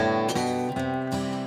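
A few picked guitar notes step upward one after another, clear and close, with no voices.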